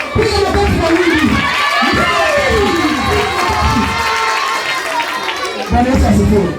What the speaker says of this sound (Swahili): Piga makofi kwa wingi.